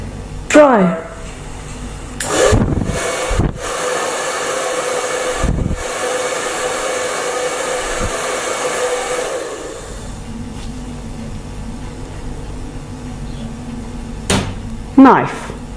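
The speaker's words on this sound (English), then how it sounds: "Dryer." A hair dryer blows with a steady whooshing hum for several seconds, broken by sharp clunks and bangs, then fades to quieter background noise.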